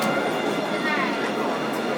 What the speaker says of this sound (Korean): 트램이 되게 자주 옵니다 이렇게 와